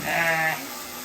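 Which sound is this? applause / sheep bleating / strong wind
sheep bleating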